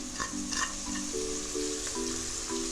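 Chopped carrots are added to chicken frying in a pan for Pakistani-style chicken macaroni, producing a continuous sizzle with a few stirring scrapes and short tonal squeaks, with no voices.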